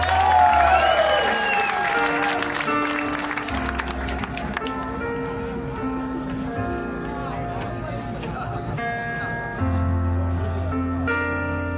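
A live audience applauds for the bandleader at a tribute concert. The clapping is strongest in the first few seconds, then fades under loud band music that keeps playing, with a voice over the top.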